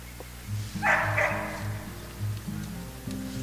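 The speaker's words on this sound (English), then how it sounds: "I have a neighborhood doggy that's unhappy with its owners" A neighborhood dog at a state park campground barks in a series of repeated yips and bow-wows from some distance, with a brief hiss of background noise among the barks.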